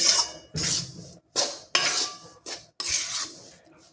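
A spoon scrapes and stirs jaggery into hot wheat flour in a pan while making wheat-flour sukhdi, in several close, bursty strokes with short gaps and no talk.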